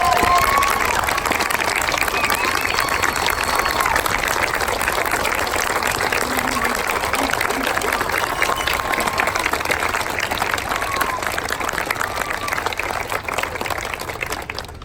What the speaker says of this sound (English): Please join me in a round of applause for our new Chief Petty Officers.